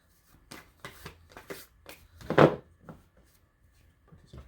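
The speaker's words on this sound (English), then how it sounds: "So I'll just shuffle these up." Board game tiles from Bloodborne being shuffled by hand on a tabletop: a run of soft, scraping rustles and clacks in irregular bursts, with one louder, denser flurry near the middle, close and fairly quiet.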